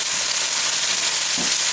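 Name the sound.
pot roast browning in a pan with canola oil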